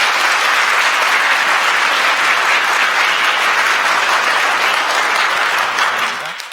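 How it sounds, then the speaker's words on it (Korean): Loud, dense applause from a church congregation welcoming newly registered members during a Sunday worship service, sustained evenly and close, tapering slightly at the very end. "박수로 환영해 주시면 감사하겠습니다."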